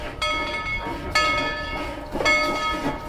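A steam locomotive on a Wild West themed park railway at Tweetsie Railroad, with a close, loud whistle sounding in three sustained blasts over rumbling train noise.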